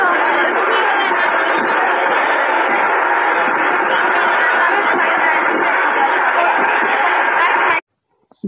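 A dense crowd packs the Koradi temple in Nagpur on a Navratri night, a loud, steady wash of many overlapping voices and bustle that runs unbroken for about eight seconds before cutting off abruptly.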